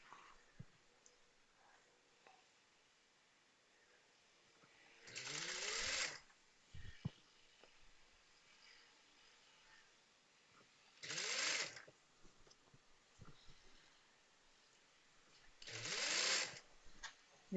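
A sewing machine runs three short stitching bursts along the inner side of a petticoat hem, spaced several seconds apart, with quiet pauses and faint handling noise between them.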